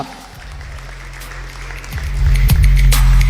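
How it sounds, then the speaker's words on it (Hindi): A hall audience at a school sports event's opening ceremony gives loud applause to welcome the city's mayor, the clapping building and growing louder toward the end, with a few heavy thumps near the close. "मैं एक बार जोरदार तालियों से चाहूँगा पूरा सदन स्वागत करे"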